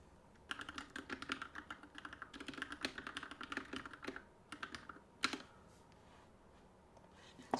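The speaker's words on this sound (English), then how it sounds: "Smart mechanical keyboard from Third Reality." Rapid clacky keystrokes on a Third Reality smart mechanical Matter keyboard, a steady burst of close typing that pauses briefly, then a final sharp key press, with no talking.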